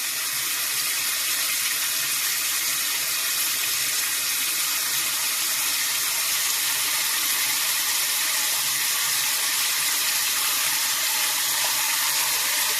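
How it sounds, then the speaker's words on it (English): Tap water pours steadily into a pot of packed collard greens in a home kitchen, a loud continuous hissing rush with no break or talk. "We're going to add water to our collards until it comes up to the top of our hand."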